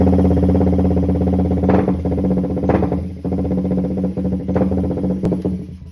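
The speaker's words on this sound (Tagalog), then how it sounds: "Bago natin baklasin tong block, huling andar muna kay Hera." A motorcycle engine runs at a steady idle before its block is taken apart, with a continuous low throbbing hum and some clatter. A few small bumps and knocks sit on top of the engine sound.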